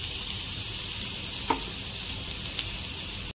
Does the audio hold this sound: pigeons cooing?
no